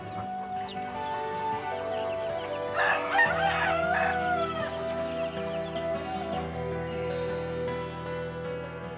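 Chickens on a poultry farm crow and cluck: a loud rooster's cock-a-doodle-doo rings out midway over a steady background of clucking hens.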